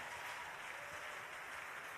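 A crowd at a national youth summit in Owerri claps and cheers to welcome a pastor, a dense steady wash of applause from many hands, fairly distant, with no voices standing out.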